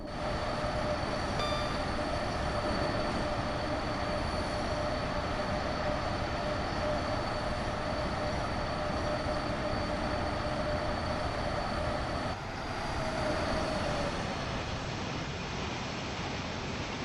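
A Class 90 electric locomotive hauling freight in Train Simulator, its wheels squealing with steady high tones over a continuous loud rumble of rolling stock that runs throughout, easing slightly near the end.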